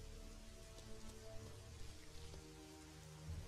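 Rain falls steadily in the video game The Witcher 2, a quiet, even hiss of drops with no voices.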